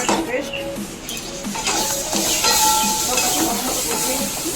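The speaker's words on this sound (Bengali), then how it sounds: "কষিয়ে নিচ্ছি।" Tomato paste with a pinch of salt and chili powder sautéing in a pan, a steady broadband sizzle and hiss with occasional scraping stirs and light clinks throughout.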